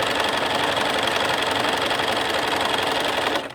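A sewing machine zigzag stitching over wire runs in one loud, continuous mechanical whir with a rapid steady needle rhythm, close up and alone, stopping abruptly at the end.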